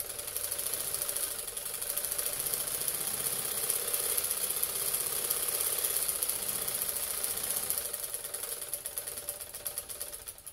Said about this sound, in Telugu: ఇదిగోండి ఫస్ట్ హ్యాండ్స్ కుడుతున్నాను